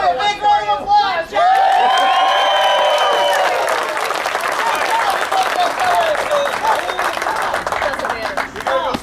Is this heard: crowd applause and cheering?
yes